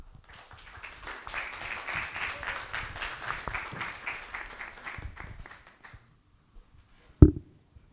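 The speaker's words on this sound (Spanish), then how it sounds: "les invito a que les recibamos con un fuerte aplauso" An audience at a panel discussion during an art biennial applauds warmly, a dense, steady clapping that lasts about six seconds before dying away, followed by a single faint knock.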